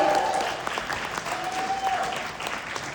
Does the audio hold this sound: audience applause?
yes